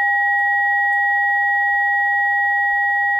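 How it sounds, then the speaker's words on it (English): An Icom IC-7300 radio plays a two-tone audio test signal. Two steady, pure tones sound together, one of them at 800 Hz, loud and unbroken throughout, with a faint low hum underneath. "let me do two tones. I'm going to do that one and the 800"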